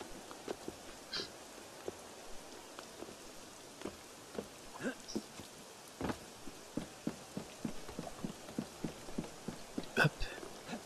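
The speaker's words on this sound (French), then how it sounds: "c'est vraiment beau la pluie et tout, j'adore" Rain falls in the video game Assassin's Creed Unity as a soft, steady patter on surfaces, with scattered sharper drips and taps throughout. The sound is faint and there is no talking.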